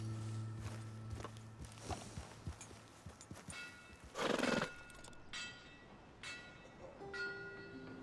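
Horses in Red Dead Redemption 2 whinny and snort while hooves clip-clop at a walking pace, with one loud neigh in the middle, all heard close in a quiet stable setting.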